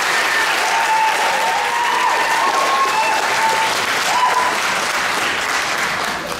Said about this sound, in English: Let's give her a big round of applause and please come forward.